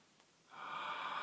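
An inward breath is stopped in a Miller maneuver, heard as a brief, faint catch followed by a sustained, airy, wheezing hiss taken in close up.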